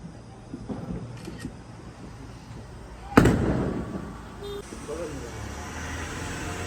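A firecracker burst set off by hand during Lakshmi Puja at Diwali: one sharp, loud bang near the middle, trailing into a rumbling decay, with festive background murmur and distant crackles around it.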